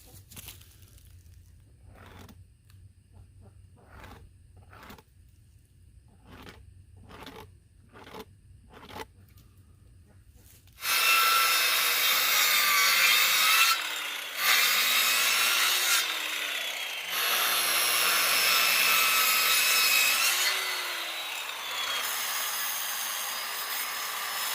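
A wooden stump slice being notched with a hand saw, first a series of sharp rhythmic taps, then loud, steady rasping saw strokes close by, with no talking.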